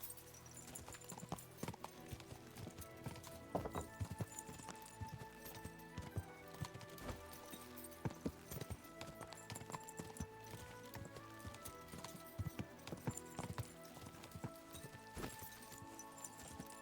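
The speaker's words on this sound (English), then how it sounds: "why am I not getting my horse?" Horse hooves clip-clop at a steady gallop in Kingdom Come: Deliverance II, a continuous rhythmic pounding over game ambience and music, with brief talk and a faint whinny.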